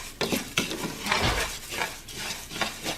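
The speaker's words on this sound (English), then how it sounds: "because you got to keep stirring" Rice being stirred in a pan while it browns for Mexican rice, with a utensil scraping and clinking against the pan in irregular strokes over a faint sizzle, close and fairly quiet.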